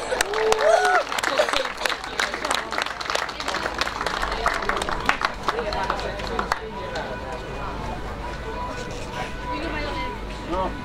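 Applause for the motocross race winners at the TOP200 motokrossi karikasarja prize-giving in Põlva: scattered clapping from a crowd, loudest near the start then thinning out, under an announcer's amplified voice.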